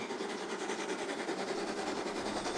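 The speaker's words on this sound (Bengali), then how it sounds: "ট্রেনটা জোরে ঝাঁকুনি দিয়ে দাঁড়িয়ে গেল কোন একটা স্টেশনে" A train pulling into a station, with a steady rhythmic clatter of wheels and carriages that stays loud and unbroken throughout, with no voices.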